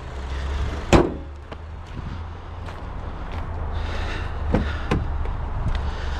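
A 2013 Acura ILX with a six-speed manual transmission sets off for a drive, its steady low engine hum running throughout under wind buffeting, with a sharp thump early on and a few light clicks and knocks.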